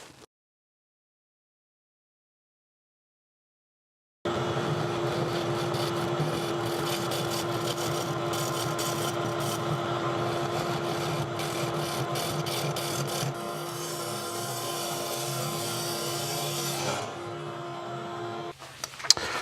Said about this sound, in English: It come flying off the lathe.